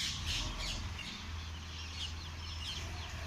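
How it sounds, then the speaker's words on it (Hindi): Morning birds squawk repeatedly at a distance outdoors amid fog, with several harsh calls in the first moments and softer scattered cries over a steady low rumble. "और ये सुबह सुबह पक्षियों को पता नहीं कौन से काम होते हैं"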